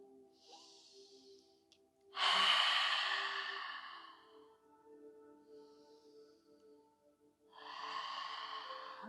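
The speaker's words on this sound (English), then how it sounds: "Breathing in and breathing out." Slow, deep yoga breathing during a calming session, a long audible exhale followed after a pause by another breath, soft and close in an otherwise quiet room with a faint steady hum.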